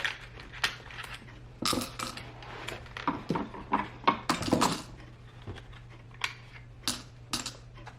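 Small white math number tiles drop into a bowl in a long run of light clicking and clattering, some falling in bunches and others singly, close by.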